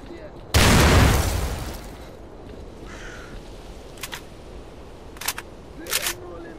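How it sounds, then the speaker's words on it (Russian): A grenade bursts in a video game as a single loud, close blast that rolls off over about a second and a half, followed by a few sharp distant cracks. "Граната, пацаны!"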